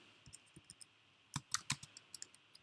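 Computer keyboard keys being typed while writing JavaScript code: a few light, sparse taps, then a quicker burst of louder clicks and a few more scattered keystrokes, close and clear with no talking.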